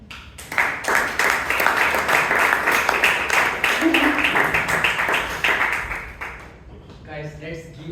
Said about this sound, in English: Guys, let's give her one more round of applause.